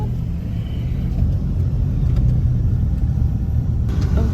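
A line of cars queues in traffic near a newly opened S&R store in Calasiao, Philippines, giving a loud, continuous low rumble of engines and rolling tyres close by, with no talking.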